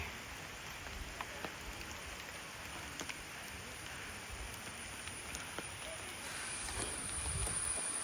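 Soft, steady patter of rain with occasional louder drips, fairly distant and faint, growing slightly heavier toward the end, on Malayattoor hill.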